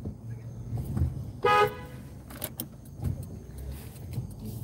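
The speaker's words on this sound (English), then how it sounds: "Alright, let me honk, huh?" A silver Honda Odyssey minivan gives one short horn toot amid quiet street ambience, with faint clicks and rustles before and after.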